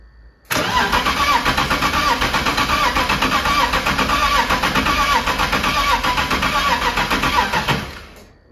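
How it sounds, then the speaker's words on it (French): A BMW E30 car fitted with an M54B30 engine cranks and catches, then runs at a steady, loud idle with a rhythmic pulse for several seconds before cutting off. "On le remet sur la voiture, on essaie de démarrer."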